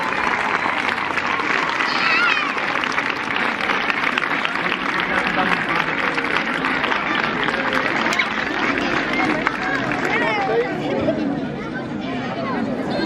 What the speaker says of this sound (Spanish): Un fuerte aplauso para el campeón.